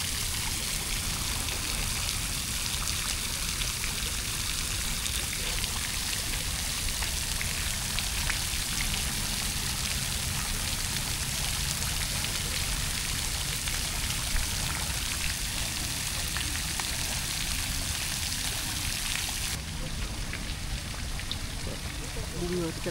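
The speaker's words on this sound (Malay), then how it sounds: "Ni ada air pancut juga." Continuous splashing of a water fountain in a park, a dense, even hiss of falling water heard steadily throughout, with faint background voices.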